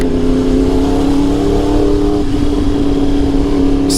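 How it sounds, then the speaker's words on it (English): A loud motorcycle rides through Houston traffic, its engine droning steadily up close with a sustained, slightly shifting pitch throughout. "I have a loud bike."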